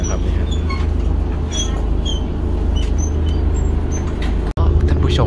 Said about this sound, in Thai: ท่านผู้ชมรถไฟออกตรงตามเวลานะครับ